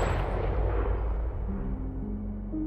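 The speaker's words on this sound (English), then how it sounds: "And then the gunshot." A single heavy gunshot in a video game trailer, a loud boom that fades into a long rumbling decay with a low droning tone under it.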